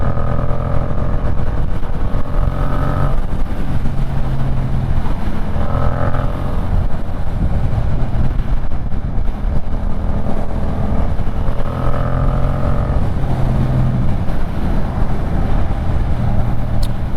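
A motorcycle engine drones steadily while riding in Idaho, a loud low rumble with rising and falling revs in several gear-like swells over wind noise.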